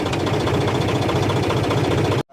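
A farm tractor engine runs with a rotavator at work in a village field, a loud, close, steady mechanical chugging and rumble with a rhythmic knock that suddenly cuts out near the end, with no talk.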